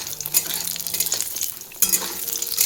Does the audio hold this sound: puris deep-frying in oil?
yes